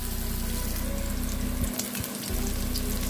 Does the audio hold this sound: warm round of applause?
no